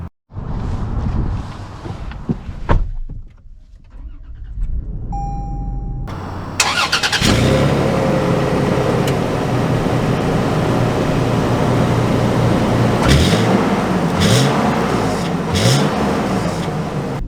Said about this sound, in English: Setting off in the 4Runner SR5.